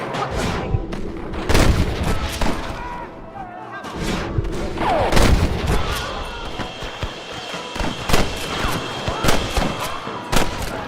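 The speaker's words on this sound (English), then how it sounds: "Stop shooting at me!" Gunfire in the video game Red Dead Redemption during a fort shootout, scattered loud gunshots and booming blasts at irregular intervals, some close and some distant, with shouting voices between shots.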